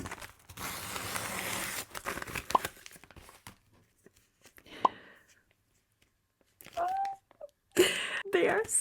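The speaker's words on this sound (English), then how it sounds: "I wanted to open the stickers with you." Sticker packaging is torn and crinkled open up close in short bursts of tearing and plastic rustling, separated by quiet pauses, with a soft voice speaking in between.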